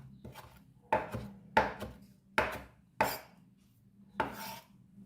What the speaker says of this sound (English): Rough chop your cilantro.